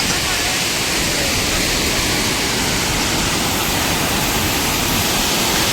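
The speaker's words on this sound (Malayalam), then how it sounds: "കാറ്റ് തന്നെ, കാറ്റിനെ പിടിച്ചോണ്ട് പോവാ" Loud, constant roar of strong wind at Malampuzha Dam buffeting the microphone, a dense rushing blast that never lets up.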